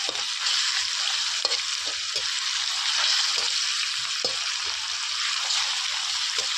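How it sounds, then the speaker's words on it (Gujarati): Spice masala roasting in hot oil, a steady close sizzle and crackle with occasional scrape-and-stir knocks of a spoon in the pan, no talking. "હવે થોડીક વાર આપણે એને શેકાવા દેવાનું છે તેલમાં"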